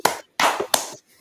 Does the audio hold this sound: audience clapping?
yes